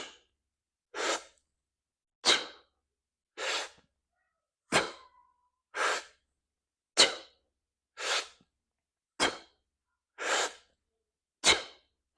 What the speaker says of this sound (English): So I did a 2-cycle breath there, right? 2 cycles of breathing.